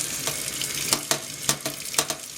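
Drained onions, peppers and celery rattle wetly in a strainer as water runs off, with four or five sharp splashing knocks over a constant close hiss of draining water.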